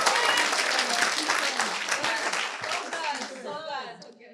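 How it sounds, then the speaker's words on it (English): Audience applause and clapping at a church sermon, a dense steady wash of many hands that fades near the end, with a few voices mixed in. "I think that was good that you should have clapped a little louder"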